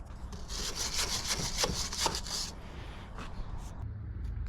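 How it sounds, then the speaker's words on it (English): Wire brush scrubbing loose rust off the wheels of a 5x8 utility trailer, a series of quick rasping strokes up close for about two and a half seconds, then a few fainter scrapes. "Just using wire brush, get all the loose stuff off."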